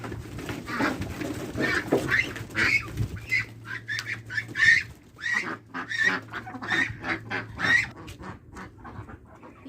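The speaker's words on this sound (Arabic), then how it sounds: "طالعه اوكل البط" A flock of ducks quack and honk steadily at close range while being fed in the morning, with rapid overlapping calls and no talking.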